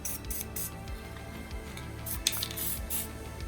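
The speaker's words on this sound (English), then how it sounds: "Let's see if this sprays." Aerosol can of Rust-Oleum spray paint hissing in several short bursts during a car paint job on an old Toyota Corolla, close and fairly steady, with no talking.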